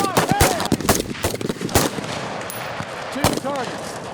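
Rifle gunfire at an Army basic marksmanship qualification range, several sharp shots cracking at irregular intervals, some near and loud, others more distant, with faint voices in the background.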